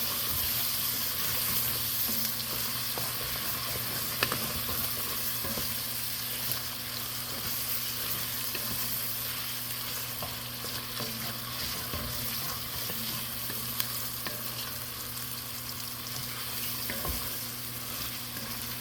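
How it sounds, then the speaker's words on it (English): Chicken cacciatore base of tomato paste being stirred into frying onions in a pan, a steady close sizzle and crackle running throughout with faint scraping of the spoon, no voices. "You're going to mix that in with your onions and stuff."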